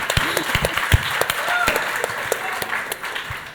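An audience claps at a business talk, a dense patter of applause with a few sharper claps close by, tapering slightly toward the end.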